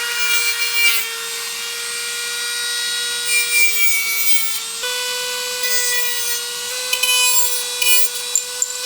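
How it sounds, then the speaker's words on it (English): A Dremel rotary tool cuts through a crossbow arrow with a loud, steady high-pitched whine, its pitch stepping slightly as the load shifts while it grinds through the shaft. "We've got the Dremel ready to go."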